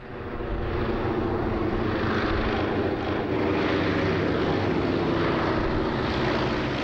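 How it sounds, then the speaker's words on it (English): A propeller aircraft flies over the Jersey airshow, its engine drone steady, loud and continuous throughout, with no voices over it. "one aircraft flying here today has got a very special link with the island"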